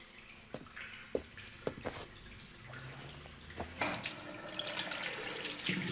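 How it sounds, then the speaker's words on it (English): Water runs from a tap with drips and splashes, a few sharper knocks early on, then a fuller, steadier flow toward the end. "it's better to just leave the water running."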